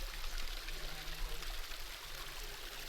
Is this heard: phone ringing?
no